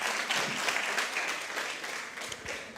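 An audience claps steadily through a round of applause at a Rotaract Club of Grenada and Communal Co-operative Credit Union awards event, a fairly even, moderately loud wash of many hands with no voices over it.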